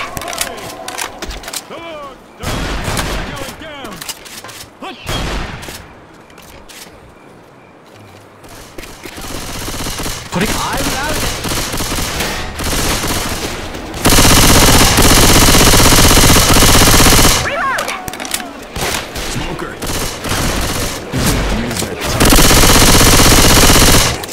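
Rapid automatic gunfire in the Left 4 Dead 2 video game, loud sustained bursts and fusillades that grow denser toward the end, with players talking over the shooting.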